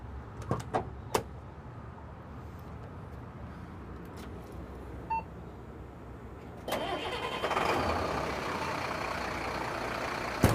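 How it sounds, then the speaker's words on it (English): A diesel vehicle engine cranking and catching, preceded by a few clicks and a quiet pause, then settling into a steady idle rumble close by. "We're just going to go ahead and start the vehicle and see what happens."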